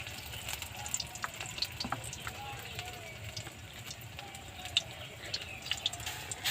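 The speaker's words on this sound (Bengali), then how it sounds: "সব রকম পাতা দিয়ে একটু একটু করে আমি ভেজে নিচ্ছি" Gourd leaf pakoras fry in hot oil, a soft steady bubbling sizzle with light crackles, fairly quiet and continuous throughout.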